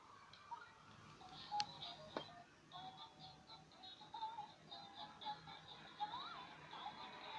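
A Fisher-Price toy smart phone gives off faint electronic beeps and short dialing tones, scattered irregularly over a quiet room background.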